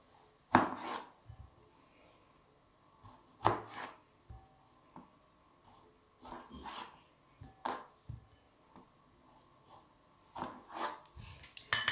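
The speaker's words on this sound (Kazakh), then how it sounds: "Ең соңында черри қызанағын 2-ке бөлеміз." Cherry tomatoes sliced in half on a cutting board, heard as a series of sharp, close knife chops in irregular clusters separated by brief pauses, with no talking.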